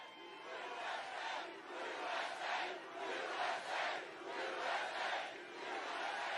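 A large outdoor political rally crowd in Ohio roars and cheers continuously, a dense wash of voices swelling in rhythmic waves of chanting, loud and sustained without a break.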